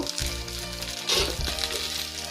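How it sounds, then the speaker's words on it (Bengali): Hilsa fish steadily frying in a pan, a soft continuous sizzle with faint bubbling close by. "মাছের অপর পিঠটা আমি ভেজে নেব"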